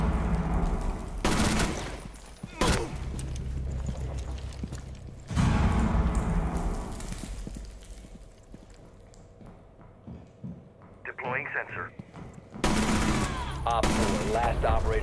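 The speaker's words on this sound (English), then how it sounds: "Shot the gun." Rifle gunfire from an ASH R4C in a video game: loud bursts of shots at the start, around five seconds and near the end, with quieter game noise and faint chatter between them.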